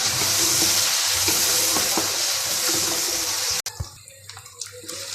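Chicken frying in a pan until golden brown gives a loud, dense, continuous sizzle with occasional stirring knocks, close up, then cuts off abruptly to quieter clatter near the end.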